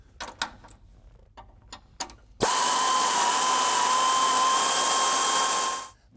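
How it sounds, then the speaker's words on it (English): A power tool, likely an impact wrench, removes a rear control arm bolt on a car supported by a floor jack: a few light clicks and taps, then one loud, steady whirring run of about three and a half seconds that cuts off abruptly. "we're going to get started by removing this rear control arm bolt first"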